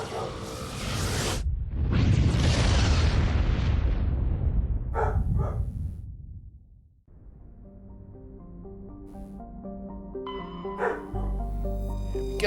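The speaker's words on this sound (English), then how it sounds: "I think Sparky's barking in the wind again." Sparky the dog barks in Mass Effect Legendary Edition, short sharp yelps mixed in with heavy rumbling blasts and booms, followed by a quieter musical stretch.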